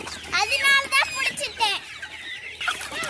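Several farmyard chickens cluck and squawk up close while pecking at idiyappam, a string-hopper rice-noodle dish. The bursts are irregular and layered over faint background voices.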